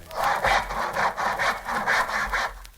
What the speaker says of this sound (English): Wasn't that a saw? Yes, it was.